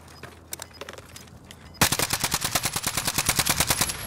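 Call of Duty: Warzone gunfire: faint distant shots at first, then a loud, close automatic burst of rapid, evenly spaced rounds that keeps going without talk.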